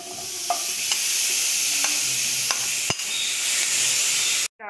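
Milk cream melting in a wok over a low flame for gajar ka halwa gives a steady soft sizzle and hiss, with a few light clicks of a stirring spoon against the pan.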